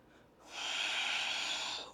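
A single deep inhale through the nose during a standing yoga flow, a soft breathy rush that swells after a brief pause and holds steady before easing off, quiet and close.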